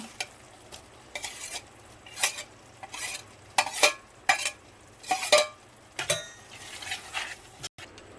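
Paneer pieces frying in a pan for methi chawa curry, stirred with a utensil in repeated scraping strokes and clinks over a low sizzle, close and fairly loud, roughly one stroke per second, without speech.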